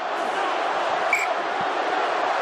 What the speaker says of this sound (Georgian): აი ესეთი შეძახილები გვესმის სტადიონზე.